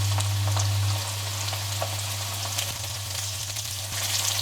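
Pieces of chicken frying in hot oil for Chinese-style lemon chicken, a steady dense crackling sizzle with scattered pops over a low hum, close and continuous.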